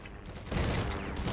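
Dense bursts of gunfire crackle through a video game shootout, a steady rattling fusillade that swells louder halfway through and keeps going to the end.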